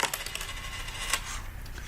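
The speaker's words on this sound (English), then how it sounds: "When you flip 2 coins" Two coins are flipped and land on a hard surface, giving a burst of close metallic clinks and rattling rings that settle over about two seconds.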